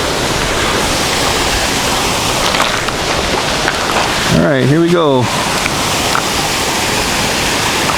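Steady roar of rushing river water at a waterfall in the rain, broadband and continuous throughout, with a short burst of voice and a brief noise in the middle.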